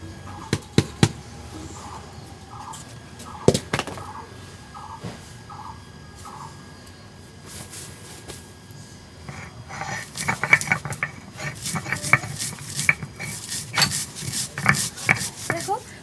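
Cumin seeds ground on a traditional shil nora stone slab, a steady run of rough scraping and rubbing strokes that grows busier and louder partway through, with a few sharp knocks near the start.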